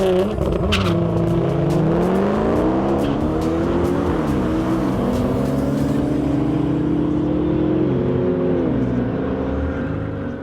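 A Nissan GT-R roars through a quarter-mile drag pass on cool tires, its engine loud and close, climbing through several gear changes with falling-and-rising pitch steps over about ten seconds, with faint tire noise and no talk.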